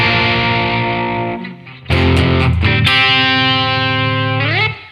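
Electric guitar with a P.A.F.-style humbucker pickup played through heavy distortion, sustained chords ringing loud and buzzy, a brief drop, then another held chord that bends and cuts off.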